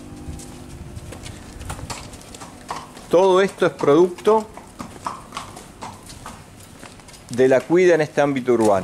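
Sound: hooves of a horse walking into its stall

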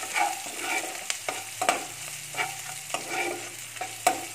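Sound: onions and asafoetida frying and stirred in a pan

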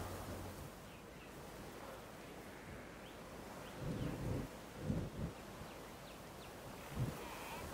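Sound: thunderstorm in the video game Jurassic World Evolution 2

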